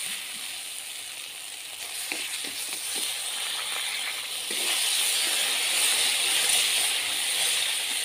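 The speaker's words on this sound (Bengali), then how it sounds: "এখন আমি জল দিয়ে দিব" Water hits a hot pan of helicopter catfish (boal) curry, and the steady hiss swells into a louder, fuller sizzle partway through, with faint clinks of cooking in the background.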